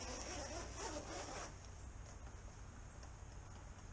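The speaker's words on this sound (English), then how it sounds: "It's kind of a two-way zipper." Zipper on a leak-proof two-way fish bag pulled in one quick, close rasping stroke lasting about a second and a half, then only quiet room tone.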